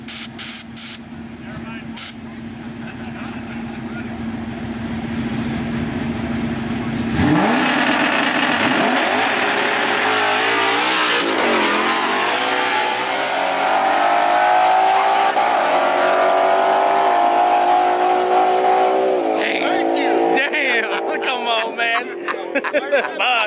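Two Mustangs drag race, a nitrous stick-shift car against a naturally aspirated 10-speed, engines roaring and revving hard before rising into a long full-throttle pull under loud crowd noise and talk.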